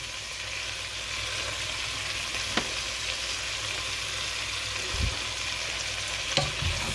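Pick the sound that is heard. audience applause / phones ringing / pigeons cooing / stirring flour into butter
stirring flour into butter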